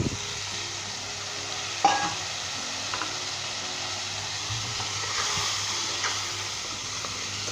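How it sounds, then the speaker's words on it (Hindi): Mutton pieces stir-fried over a high flame for a green chilli bhuna give a steady, close sizzle with occasional scrapes and clinks from the spoon against the pan, and no one speaks. "और अच्छे तरीके से ऐसे 5 मिनट तक हाई फ्लेम के ऊपर हम भूनेंगे"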